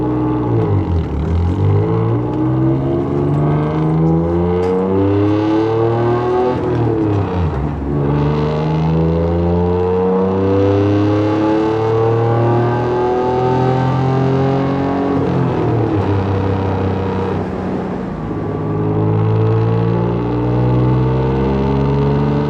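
Acura NSX exhaust heard from inside the car while driving, a loud, close engine note climbing through repeated rising pulls and gear shifts, each sweep of pitch followed by a drop, raw and unbroken by speech.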